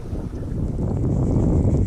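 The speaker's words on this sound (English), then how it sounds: "The wind ain't blowing hard, but it's blowing enough to keep me off the juice." Wind blowing across Lake Hartwell during boat fishing, a steady low broadband rumble and buffeting against the microphone, continuous and fairly loud with no talk.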